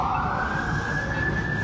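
An emergency vehicle siren blares loud and steady on a city street in Toronto, a sustained wailing tone with traffic rumbling underneath.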